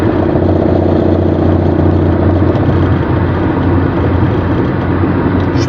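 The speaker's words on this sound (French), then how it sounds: "Là j'accélère, là je lâche la pédale." A car engine runs steadily at speed on the road, a loud continuous drone with a low hum and faint clatter, with no clear rise or fall in revs.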